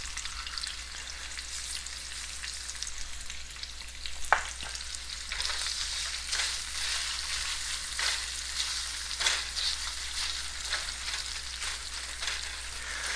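Onions fry in hot oil with chili and salt for chickpea sundal, a continuous close sizzle broken by occasional sharp spatters and stirring scrapes, with no talking.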